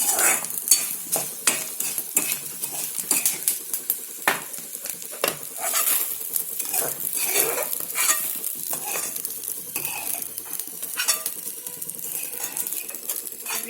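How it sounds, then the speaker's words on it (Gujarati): Edible gum (gond) fries in hot ghee in a pan, a steady close sizzle broken by frequent metal spoon scrapes and clinks from stirring throughout. "ગુંદને તળી નાખશું."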